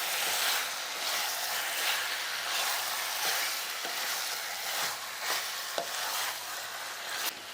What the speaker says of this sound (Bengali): ঢাকনাটা খুলে নেওয়ার পর আমি আবারও একটু মাংসটা এইভাবে নাড়াচাড়া করে দিচ্ছি